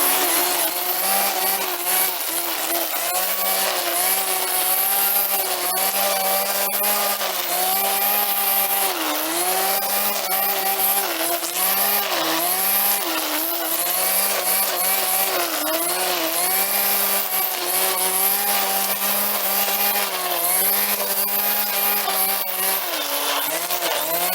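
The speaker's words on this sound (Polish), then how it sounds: "I zobaczcie, tak sobie ta podkaszareczka pracuje." A small, handheld budget string trimmer runs continuously at a high, buzzing pitch with slight speed wavers, loud and close, with no talk.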